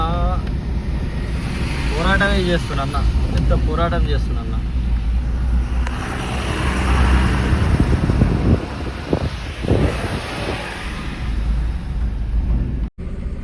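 A heavily loaded lorry climbs a ghat road, its deep engine drone and wind rushing past steadily underneath a voice talking nearby.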